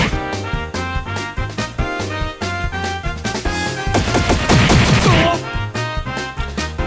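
Rapid video game gunfire from a Trails in the Sky battle attack rattles in dense repeated bursts over game music, building to a heavy crashing flurry midway before the steady rhythmic shots continue.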